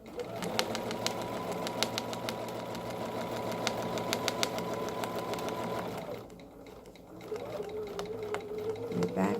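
A sewing machine stitches curved crosshatching along a 3-inch Bernina round ruler, giving a fast, even needle rattle for about six seconds, then a brief pause and a softer restart, with faint talk in the background.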